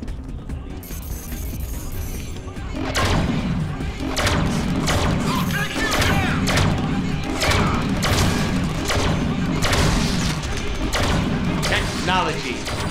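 Rapid gunfire from a gun set to perforate in the Deadpool video game, a steady stream of heavy thudding impacts and blasts repeating for several seconds amid game noise.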